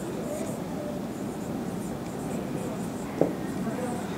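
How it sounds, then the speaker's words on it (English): Marker writing on a board during a computer science lecture on binary versus sequential search, soft scratchy strokes continuing steadily over a noisy room background with a brief tap near the end. "let me write it as n."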